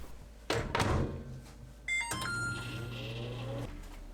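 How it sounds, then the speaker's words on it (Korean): A door thunks shut, a few electronic beeps sound, and then a microwave oven heating dried anchovies hums steadily before stopping with a click. "전자레인지에 넣고 10초 더 돌립니다."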